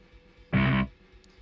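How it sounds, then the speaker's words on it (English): A single short, loud blast of a heavily distorted instrument tone set up for black metal, with every distortion setting maxed, sounding as a harsh buzzing note of about a third of a second that cuts off abruptly. "we're also gonna classic distortion and max on everything"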